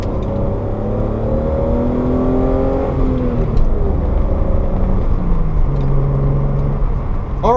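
A 1987 BMW 325is E30 reverses and then pulls away on a wet road, its engine rumble steady and close with gear whine and rising, shifting engine tones throughout.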